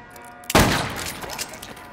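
A single sharp gunshot in the VR game H3VR, close and loud, with a crisp crack followed by a ringing, decaying tail and faint background noise.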